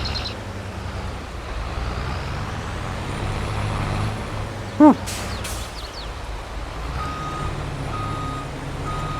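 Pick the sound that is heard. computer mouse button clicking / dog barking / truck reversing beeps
truck reversing beeps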